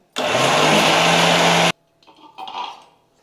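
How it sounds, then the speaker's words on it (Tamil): A kitchen mixer grinder runs at full speed, grinding drumstick leaves into a dry dosa podi powder with a loud, steady whirring roar that stops abruptly, leaving a short stretch of faint rattling and handling sounds. "இன்னும் கொஞ்சம் நைஸாக அரைச்சிக்கலாம்"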